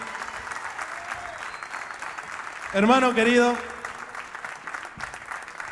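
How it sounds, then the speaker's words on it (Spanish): Crowd applause at a live folk music concert at CAATLAS in Rosario: steady, dense clapping throughout, with a voice briefly speaking over it in the middle. "Fuerte el aplauso para los chicos"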